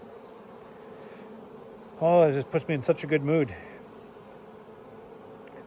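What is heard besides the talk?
honey bees buzzing around hives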